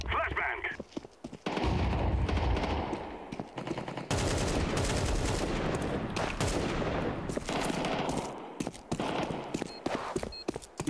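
Rapid gunfire bursts in Counter-Strike 2 during a team match, loud automatic shots in clusters separated by brief gaps, with players talking over the action.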